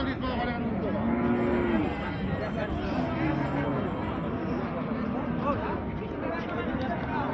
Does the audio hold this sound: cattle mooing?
yes